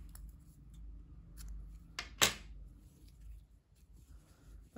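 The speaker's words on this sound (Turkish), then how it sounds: "İpliği burada kesiyorum" Scissors snip through grey yarn during crochet work, one sharp close cut followed by a short rustle, set against a quiet room hum with faint handling sounds.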